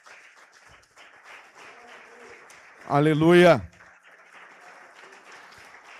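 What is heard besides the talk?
church congregation applauding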